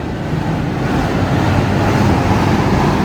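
Steady wind gusting across an open rooftop, a continuous low rushing roar that buffets the microphone for the whole stretch, with no talk over it.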